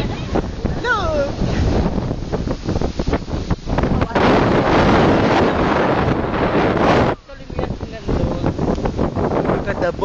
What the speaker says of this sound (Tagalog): It's so very windy.